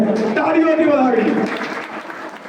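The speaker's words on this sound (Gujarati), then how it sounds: "એમને તાળીઓથી વધાવી" A crowd at a political party gathering applauds to welcome some 300 new young workers, with steady clapping running under a loud voice talking over it throughout.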